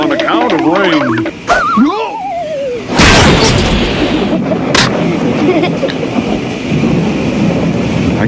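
Cartoon thunderstorm with rain: a heavy crack of thunder and rumbling booms over steady rain, with animated voices and music playing over the storm.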